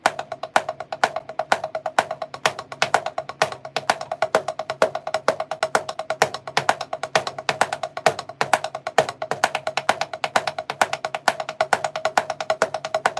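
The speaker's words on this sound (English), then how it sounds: "Which is why I do inverted paradiddles." A drum is struck in a fast, continuous inverted paradiddle sticking pattern with evenly spaced accented hits, close and dry, with no one speaking.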